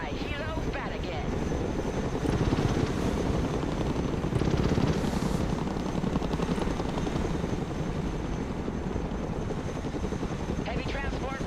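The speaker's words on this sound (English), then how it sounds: "Let's go and recover it with our helicopter." A Chinook heavy-transport helicopter flies in the military strategy game Broken Arrow, its rotors a steady, loud, throbbing drone that continues throughout with some voice chatter beneath.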